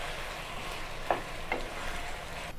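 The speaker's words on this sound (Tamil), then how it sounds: "இப்போ நம்ம ஃப்ரை பண்ண சிக்கனும் சேர்த்துக்கலாம் இதல சேர்த்துட்டு எல்லாம் நல்லா இப்படி mix பண்ணி விடுங்க" Fried chicken is stirred into sauce in a pan while making chilli chicken, heard as a soft, steady sizzle with a couple of faint scrapes from the spoon.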